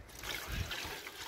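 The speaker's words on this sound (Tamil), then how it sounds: "அடுத்து நம்ம தண்ணி சேர்த்துக்கலாம்." Water is poured into a cooking pot of rice for Ramzan nombu kanji, a brief, steady trickling splash heard up close with no talking.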